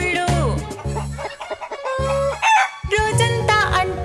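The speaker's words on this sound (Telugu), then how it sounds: "అక్కడ ఉన్నాయి బోలెడన్ని కోళ్ళు." Farm chickens cluck and a rooster crows within a sung children's nursery rhyme, the bird calls loud and close among the musical notes and voices.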